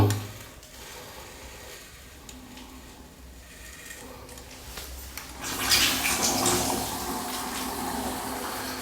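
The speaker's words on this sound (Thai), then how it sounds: "เดี๋ยวลองเปิดน้ำเทสดู" A washbasin tap turns on after a new supply hose is fitted, and running water starts partway in, rising to a steady close rush that continues to the end after quieter handling sounds.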